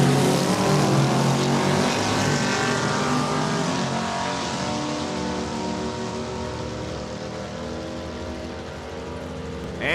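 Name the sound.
race cars on a drag strip during a time trial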